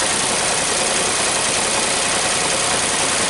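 A 2014 Nissan Versa engine with a cylinder 3 misfire idles roughly and continuously up close, a dense steady rumble with no voices.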